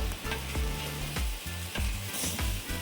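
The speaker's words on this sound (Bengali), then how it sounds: "এইবারে ভাজা হয়ে গেছে, আলুটা দিয়ে দিতে বললাম।" Potatoes fry in a pan for a school midday meal of aloo posto, with a constant close sizzle broken by repeated rhythmic scraping strokes of stirring.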